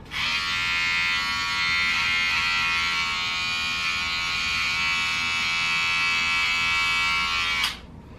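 An electric razor buzzes loud and close as it shaves an undercut, holding a steady high whine for about seven seconds before cutting off abruptly.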